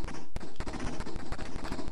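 Rapid bursts of gunfire from the Operation Hanoi video game on an Amstrad CPC464, loud and continuous with choppy repeated shots across the whole stretch.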